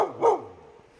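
A single short, sharp bark from a six-month-old husky responding to a command, close and clear, quickly fading into quiet.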